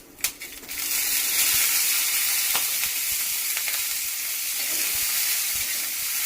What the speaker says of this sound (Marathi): छान अशा मिरच्या भाजून घ्यायचा